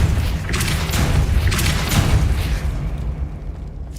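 Depulso spell impacts in the video game Hogwarts Legacy make loud, dense booming bursts that swell and roll several times, then fade out near the end.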